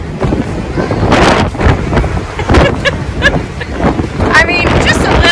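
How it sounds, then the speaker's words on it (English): Gusty wind of about 35 mph roars and buffets the microphone on a cruise ship deck in uneven surges, with rushing water and bits of voices underneath. "It's a little windy out here."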